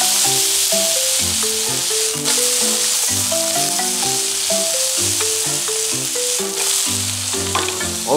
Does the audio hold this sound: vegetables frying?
yes